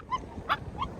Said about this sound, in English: Lucky, don't bark